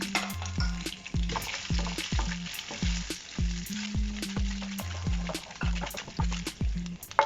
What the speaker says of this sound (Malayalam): ഞാനതോട്ട് ഫസ്റ്റ് കുറച്ച് തേങ്ങാക്കൊത്ത് വറുത്തെടുക്കുവാണ്.